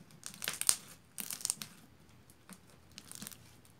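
Crunchy popcorn slime packed with foam beads and styrofoam bits being squished by hand, giving close, quiet bursts of crackling and crinkling in a few uneven clusters with short pauses between.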